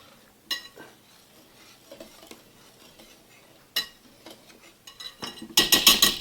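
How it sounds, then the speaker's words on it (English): A whisk stirs dry carrot cake ingredients with nutmeg in a bowl: scattered light clinks and scrapes, then a quick run of loud rhythmic strokes against the bowl at the end. "then I'll give the dry ingredients a little whisk"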